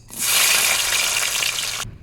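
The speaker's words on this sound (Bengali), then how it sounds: "আদাটা ভাজা হয়ে গেছে" Ginger sizzling in hot oil in a wok, a loud, steady broadband fry that starts abruptly, holds for nearly two seconds and cuts off, with no voices.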